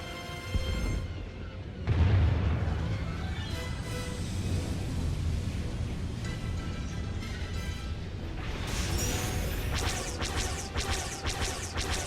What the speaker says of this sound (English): Enemy ships are opening fire.